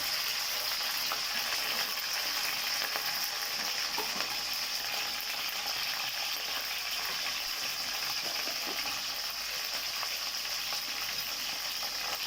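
Whole spices (cloves, cinnamon, bay leaf, dried red chillies, ginger, curry leaves, mint) frying in a pan for beetroot rice, a continuous soft sizzle with faint stirring scrapes, no talking.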